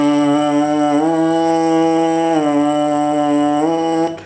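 A sustained, harmonically rich brassy buzz on a bass trombone mouthpiece with clenched lips, held steadily for about four seconds, with a few brief pitch dips along the way, loud and close.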